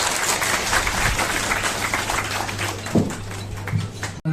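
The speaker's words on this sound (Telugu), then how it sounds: "కనీసం అట్లీస్ట్ ఒక చప్పట్లతో చేస్తే వాడు చాలా ఆనందపడతారు" An audience at a public gathering applauds in a dense, sustained burst that lasts throughout, with a low electrical hum underneath and a brief thump near the end.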